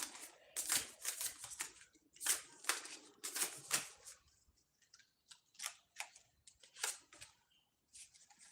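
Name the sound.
shuffling new playing cards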